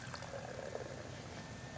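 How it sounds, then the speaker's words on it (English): Beer, an OEC Coolship lager, is poured from a can into a glass, giving a soft, steady, fizzy pouring and trickling sound up close and fairly quiet. "Let's give these a pour."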